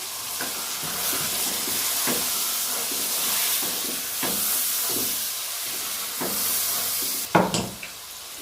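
Medium tomato cubes frying with spices in a pan for matar pulao, a steady sizzling hiss with repeated stirring scrapes throughout and a sharper clatter near the end; no one talks.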